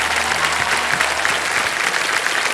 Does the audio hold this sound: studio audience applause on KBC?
yes